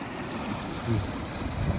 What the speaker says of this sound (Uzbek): Xudo xolasa toza suv kelyapti.